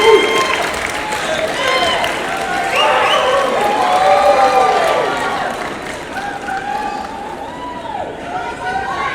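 At a 2019 college graduation ceremony, graduates applaud their families: sustained crowd clapping and cheering fills a large hall, with overlapping voices and some chatter rising above it.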